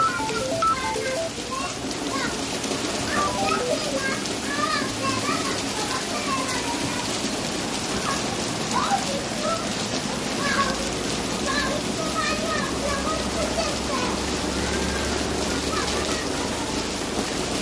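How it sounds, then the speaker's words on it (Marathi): Heavy unseasonal rain pours down in Kankavli in the Konkan region, a dense continuous hiss of large drops striking surfaces, with a person talking intermittently over it. "इकडे अवकाळी पावसाला सुरुवात झालेली आहे आणि पावसाचं प्रमाण बघून तुमच्या लक्षात येईल"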